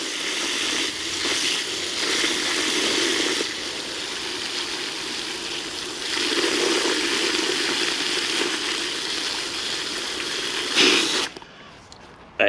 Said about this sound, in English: fill it a third of the way up with